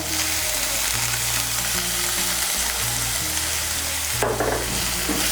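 Tomato paste frying in a hot pan, a steady loud sizzle with repeated scraping and stirring strokes, close up with no talking.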